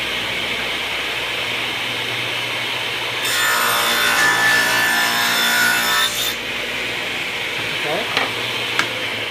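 A hand saw cuts through a piece of wood for a homemade iPhone tripod mount. It makes a steady rasping burst of about three seconds, close and loud against a quiet room.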